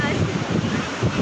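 Sea waves wash onto a beach in a short, steady rush of surf mixed with heavy wind buffeting the microphone.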